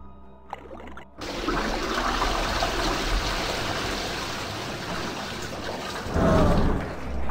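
Water is drained to a lower level during a puzzle in the video game Blood Omen II. After a brief near-quiet moment, a loud, continuous rush of flowing water starts and keeps going, swelling again near the end.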